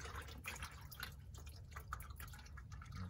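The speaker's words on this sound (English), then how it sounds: "I should have let more oil come out because it's still hitting that filter area" Motor oil drains from the engine of a 2018 Cadillac Escalade during an oil change, a faint, steady patter of drips and trickling liquid splashing near the filter area.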